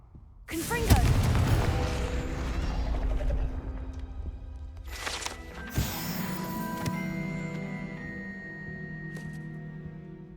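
A Confringo fire spell in Hogwarts Legacy on PS5 bursts in a sudden loud blast that rumbles and rings out, followed by a second sharp whooshing impact and lingering magical tones.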